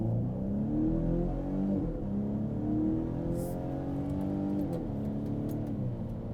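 A 2025 Volvo V60 with a turbocharged engine accelerates to highway speed, its low engine drone rising through the gears with brief dips at each shift, heard from inside the cabin with no talking.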